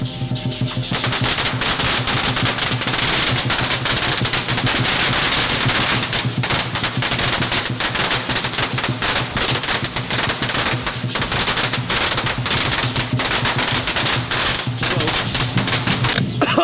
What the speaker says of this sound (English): I was point blank in the smoke during all the fireworks